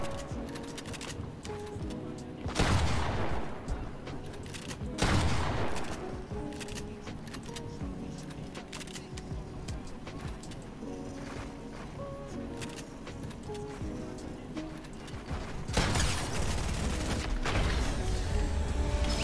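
Pump shotgun shots in the video game Fortnite during a competitive match, a few loud blasts spread through a busy game soundtrack with other gunfire and effects.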